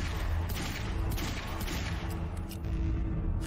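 Gunfire in the video game Quantum Break, rapid shots fired at an indestructible object, a dense continuous barrage of loud cracks and rumble filling the whole moment without pause.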